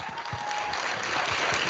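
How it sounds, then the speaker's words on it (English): A room full of attendees at an awards show for a disability film challenge bursts into dense, continuous applause, steady and fairly loud across the brief moment. "seriously give a hand for yourself"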